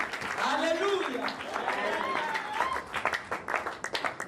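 A church congregation breaks into applause and cheers after a call to acclaim the Lord, clapping swelling under overlapping voices before settling into scattered, rhythmic claps near the end.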